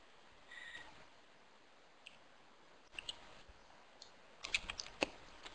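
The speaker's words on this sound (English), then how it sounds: "She's typing." Someone types on a computer keyboard, sparse light clicks and short bursts of keystrokes over a quiet room hiss, faint and close, with no talking.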